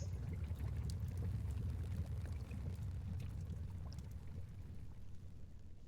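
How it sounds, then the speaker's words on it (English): Water bubbles and gurgles steadily in a cavern in the video game Dwarf Fortress, a low, continuous churning murmur with no voices over it. "I hear bubbling."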